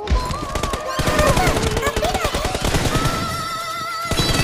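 Rapid bursts of automatic gunfire from the BGMI mobile shooter in team deathmatch, dense and loud shot after shot for several seconds, with tonal game sounds layered underneath.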